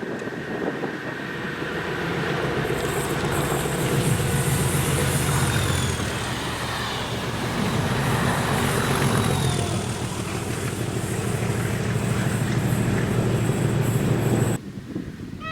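A Class 37 diesel locomotive hauls train 1QX75 past near Carluke, its engine drone and rolling wheels loud and steady for about fourteen seconds, with wind buffeting the microphone, before cutting off abruptly at the end.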